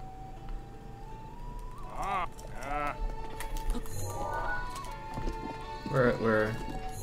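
Horse hooves clip-clop in the Breath of the Wild video game, with a horse whinnying or snorting in bursts over a steady game background, while a person talks.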